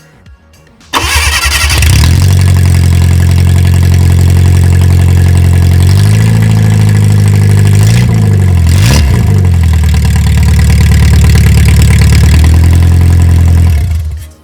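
A Fiat Panda engine fires up and revs hard with no exhaust connected, a loud, raw, continuous roar with rising and falling revs and sharp blips, close up with no talk.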